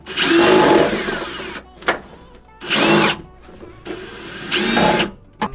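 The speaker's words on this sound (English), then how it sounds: "I gotta drill holes into my car" Power drill boring holes into the body of a Honda Civic hatchback for a roll bar install: three loud, sustained bursts of whining drilling, each a second or more long, separated by brief pauses with small clanks, close up and no speech.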